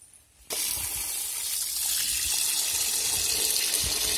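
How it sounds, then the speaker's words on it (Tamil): A kitchen tap bursts on after a brief quiet moment and runs steadily while chicken meat is rinsed for a Chettinad chicken curry, with a continuous hissing gush and occasional low splashes and knocks underneath. "கறியை நல்லா அலசிக்கலாம்."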